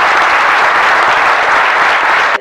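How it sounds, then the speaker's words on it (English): Loud, dense applause from an audience at a bird photography awards presentation, continuous clapping that fills the room and cuts off abruptly at the end. "we'll give him a round of applause"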